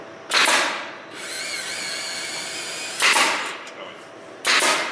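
A power drill bores quarter-inch holes in a Tesla coil base, whining loudly in bursts of rising and falling pitch with short pauses between them.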